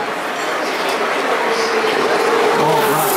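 Formula 2 race cars on the final lap of the Spanish Grand Prix, a steady broadband roar of engines passing at a distance, continuous and fairly loud throughout with no clear gaps.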